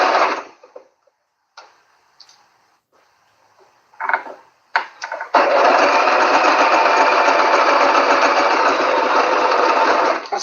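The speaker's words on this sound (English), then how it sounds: "Run the stitch as close to the edge as possible." A sewing machine runs a stitch close to the edge of a piece of fabric. A few short starts come first, then a steady, loud and close whir lasts about five seconds.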